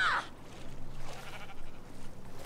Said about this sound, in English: Oh, it's the sheep!